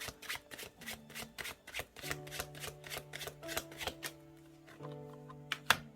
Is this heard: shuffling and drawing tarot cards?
yes